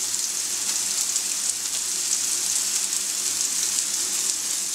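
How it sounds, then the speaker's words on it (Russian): Bacon frying in a pan, a steady, dense crackling sizzle that holds evenly throughout with no voices. "Зато жарится бекон."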